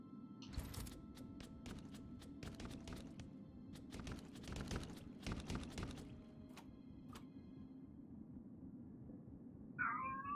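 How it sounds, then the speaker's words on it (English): Indoors in a home office, clusters of sharp clicks and taps rattle for several seconds, then a spoiled pet cat named Samantha lets out one brief meow right at the end over a low hum. "Spoiled cat. Please ignore the cat."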